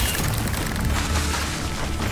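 A fiery Incendio spell going off in the game Hogwarts Legacy, a loud, full roaring blast of flame that holds steady and dense for about two seconds with no voices.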